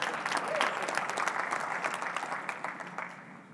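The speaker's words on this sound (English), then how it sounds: "Give yourselves a round of applause." Conference audience applauding after a keynote opening, a sustained burst of many hands clapping that tapers off toward the end, fairly distant in a large hall.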